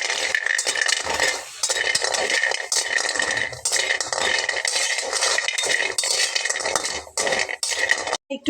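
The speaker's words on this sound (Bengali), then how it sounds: "আর এই তেলে এই যে বড়িটা আমি ভেজে নেব।" Bori, sun-dried lentil dumplings, fry in hot oil with a bright, continuous crackling hiss, broken by the scrape and clink of a utensil stirring in the pan.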